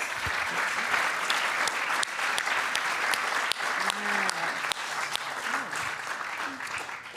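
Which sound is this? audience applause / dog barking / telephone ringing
audience applause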